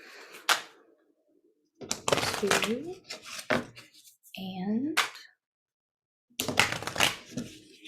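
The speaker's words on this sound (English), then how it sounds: "I'm gonna do 3 more shuffles." Tarot cards are riffled and shuffled in several quick bursts separated by pauses, with a voice speaking briefly between them.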